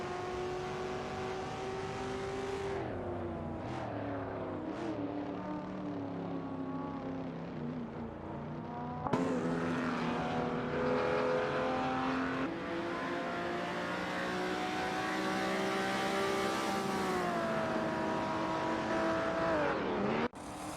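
AI supercars race at Weatherfield Speedway in a racing video game, their engines droning in a loud, continuous roar with rising and falling pitch as cars accelerate and shift, and a sudden louder surge partway through.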